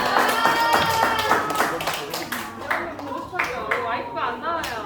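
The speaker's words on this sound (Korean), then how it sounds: "박수로 맞이하겠습니다" Scattered clapping greets a teacher at a children's online church service, with a voice talking over the claps. The clapping is uneven and fairly close, and it thins out as the speaking continues.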